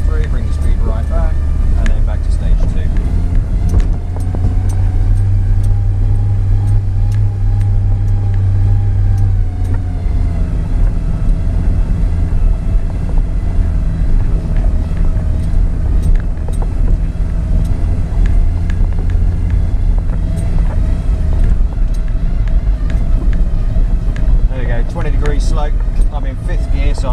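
A truck's retarder brakes in low range gear, a steady heavy drivetrain drone and whine that rises and falls with speed, joined by wind rumble at the microphone.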